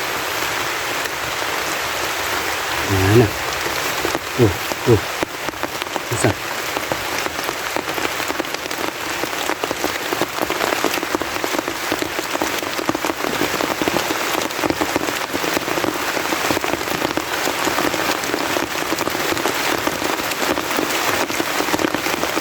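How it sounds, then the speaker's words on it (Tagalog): Steady, heavy rain patters densely on surfaces all around, a continuous hiss with a few brief thumps early on. "naabutan naman tayo ng ulan"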